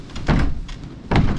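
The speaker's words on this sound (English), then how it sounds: "they have these doors that close" A heavy door closing in a tunnel of the Wieliczka salt mine: two dull, solid thuds with a brief scrape, close by in a reverberant space, with no talking.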